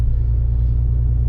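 Truck engine running on a cold morning, a loud, steady low rumble from close by with no change in pace over the short stretch.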